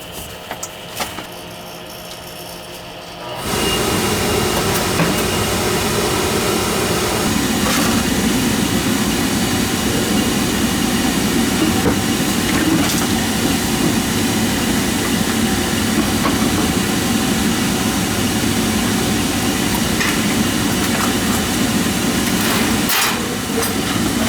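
An oil furnace burner motor starts after a few seconds of quiet, then runs as a loud, steady mechanical hum with a rumbling, clattering texture and occasional clicks, continuing without a break to the end.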